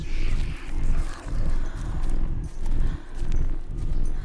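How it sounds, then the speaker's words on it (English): Footsteps in the horror video game The Park come as a heavy, steady thudding tread that repeats rhythmically and loudly under a dark rumbling ambience, with no talking. "I can hear footsteps like all around me."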